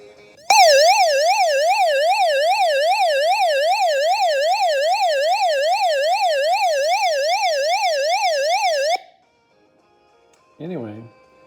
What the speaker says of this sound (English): This is a light and SOS button, which you're going to hear how loud this thing is